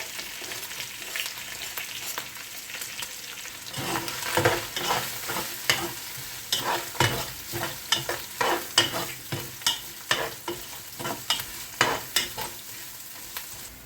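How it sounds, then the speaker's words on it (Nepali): Onion and green chilli fry in a pan, with a steady sizzle broken by repeated scraping stirs that grow busier and more rhythmic partway through, all close up and with no voices. "एउटा प्याज एन्ड ग्रिन चिल्ली हालेर अब फ्राई गर्दैछौँ।"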